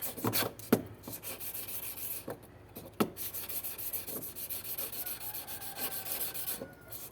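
Close, quiet rasping of sandpaper rubbed back and forth on a metal bracelet, a steady scratchy texture with a few sharper scrapes.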